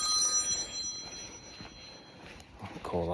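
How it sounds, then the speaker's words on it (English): A work phone rings with a brief warbling electronic burst near the end, fairly close. Faint rustling and footsteps are heard outdoors before it. "my work phone's ringing"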